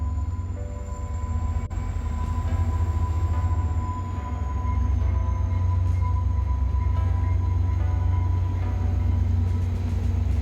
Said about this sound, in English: As the train came to a stop